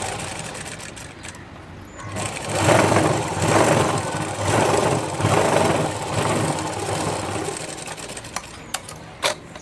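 Electric sewing machine running in steady bursts while top stitching a blouse, a mid-pitched whirring hum that rises and falls with each run, close and fairly loud, with small clicks near the end and no talking.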